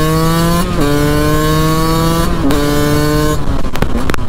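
A Beta RR 125 two-stroke supermoto rides along with a loud, close, steady buzzing engine note that holds high, drops at each of two gear shifts, and then turns choppier near the end.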